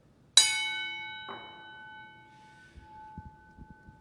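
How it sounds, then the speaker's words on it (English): An official WWE wrestling bell rings, one sharp bright strike followed by a softer second hit, both leaving a long ringing decay that fades out, with faint thumps near the end. "this official wrestling bell"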